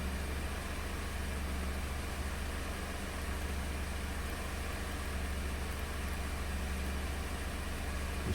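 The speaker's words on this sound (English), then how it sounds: "got the vehicle running" 2012 Ford F150 engine idling steadily, a continuous even rumble with broadband hiss, close and unbroken throughout with no talk.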